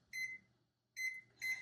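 A kitchen timer beeps in three short electronic bursts, two quick ones close together and then a third after a pause, as it is set for slow-braising rabbit with turnip greens in a lidded pot.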